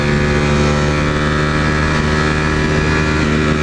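Ducati motorcycle engine pulling under acceleration, a loud, continuous, harmonically rich drone that holds steady and close throughout.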